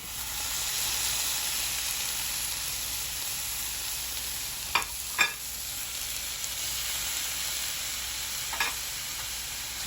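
Ground beef and onion browning in hot oil in a pan for Mexican picadillo, giving a steady broadband sizzle throughout with a few brief clicks and scrapes of stirring, close and fairly loud, no talking.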